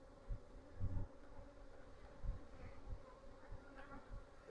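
Honey bees buzzing over a crowded hive frame, a dense, steady hum with a few louder bumps and thuds close by.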